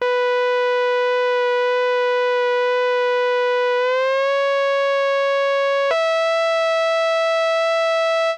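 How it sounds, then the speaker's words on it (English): A sustained, buzzy synth lead tone with gritty distortion, holding one pitch before gliding up and then jumping higher, loud and alone. "add a bit more character to this lead sound by adding some distortion"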